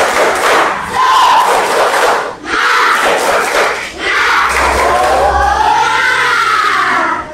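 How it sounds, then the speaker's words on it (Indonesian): A classroom of students does a rhythmic spirit clap led by the teacher, loud group shouting and chanting with thumping claps in bursts, brief pauses between phrases and a voice rising and falling near the end. "Kita tepuk semangat bersama-sama."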